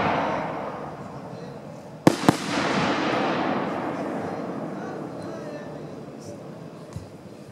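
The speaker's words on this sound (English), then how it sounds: "we'll start off with the Freedom 3-inch brocade crown with red pistol" A Freedom 3-inch brocade crown firework shell with red pistil bursts with a sharp double crack, then a long crackling, hissing fall that fades over several seconds, with a distant thump near the end; people talk softly underneath.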